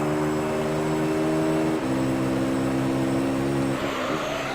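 Race car engines in Gran Turismo 3: A-Spec, drafting in the slipstream of a Mitsubishi FTO, a steady loud droning whine that holds pitch, drops briefly as a gear shifts, then climbs again.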